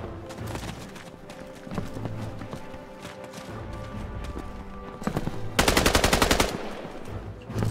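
Gunfire in the World War II shooter Battalion 1944 during a pre-game lobby, with scattered single shots, then a loud rapid burst of automatic fire near the end, all over busy game background noise.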